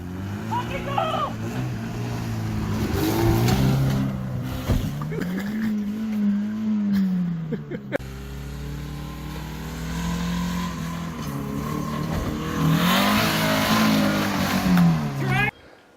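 A Chevy Aveo engine running with no oil revs hard, its pitch swelling and falling in repeated surges with rough, strained overtones, heard up close beneath people shouting and talking.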